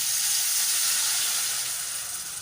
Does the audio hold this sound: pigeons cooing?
no